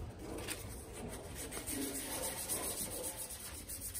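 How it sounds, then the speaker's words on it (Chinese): A scooter's painted body panel is sanded by hand with 800-grit sandpaper, a soft, steady rhythmic rubbing and scratching of repeated strokes, close and fairly quiet. "我们表面需要先用800番砂纸先研磨过。"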